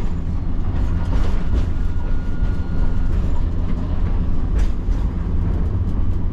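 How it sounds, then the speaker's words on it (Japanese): A Hiroshima Electric Railway tram runs along its line and takes a left turn, giving a steady low rumble with wheel and rail noise throughout, fairly loud and continuous with no talk. "電車が左に曲がります。"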